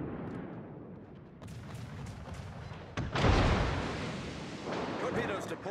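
Warship naval gunfire in World of Warships, a heavy booming salvo rumbling in amid continuous battle noise, with a voice talking over it.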